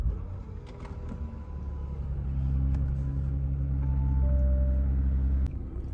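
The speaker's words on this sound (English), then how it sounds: "should we crack on and start this car up before we lose any interest?" A Bentley Bentayga W12 First Edition starts up, its W12 engine settling into a steady, deep idle rumble that swells slightly and holds close and even, with no talk over it.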